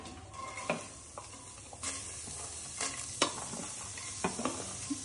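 Onions sizzle in AMC cookware as a utensil stirs them, a low steady fry broken by a few distinct scraping strokes, close by and without talk.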